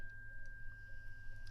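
A 256 Hz C Solfeggio tuning fork rings as one faint steady pure tone that holds without wavering over a quiet background hum, with no talk.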